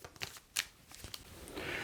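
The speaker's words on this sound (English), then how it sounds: "I'll shuffle my deck and draw the rest of the way." A deck of game cards for the Marvel Champions card game is shuffled by hand, giving brief riffling and snapping card noises, close and fairly loud, with a sustained flutter at the end.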